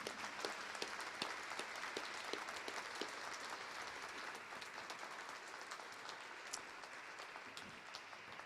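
Sustained applause from a cathedral concert audience for a jazz trio, a dense patter of clapping that stays steady throughout with no talking over it.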